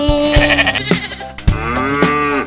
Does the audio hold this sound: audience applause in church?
no